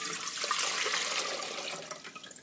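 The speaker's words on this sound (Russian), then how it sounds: "наливаем литр воды." A litre of water poured into a cooking pot set on a stove, a continuous splashing, bubbling stream at close range that tails off into a few final splashes at the end, with no talking.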